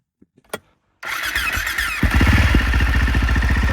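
A 2004 Husaberg 650 dirt bike engine cranks over briefly, then fires up and settles into a loud, close, rapid thumping single-cylinder idle.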